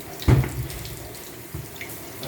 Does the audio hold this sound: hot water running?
yes